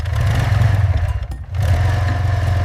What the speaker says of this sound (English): They try to start it, but only hear the engine sound